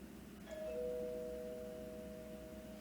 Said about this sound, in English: it wasn't long before the doorbell rang